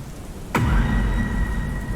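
Rain falling steadily at night outside a bedroom window, a continuous wash of hiss and low rumble that swells suddenly about halfway through and stays loud to the end.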